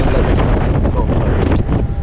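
Strong, cold wind buffets the microphone in rough, continuous gusts, a loud low rumble with no pause across the short stretch.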